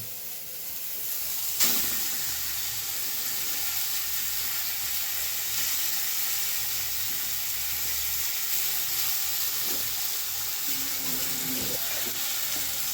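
Ground bean (shim) leaf paste frying in a pan with oil for bhorta, a steady close sizzle throughout with a brief clatter near the start and faint stirring scrapes, no talk.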